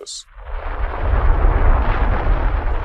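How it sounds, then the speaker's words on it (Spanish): The Krakatoa volcano erupts in a thunderous explosion. A brief sharp click is followed by a loud, deep, rumbling roar that swells and holds for nearly three seconds. "Cuando el magma explotó en la superficie, arrasó toneladas de roca con una explosión atronadora."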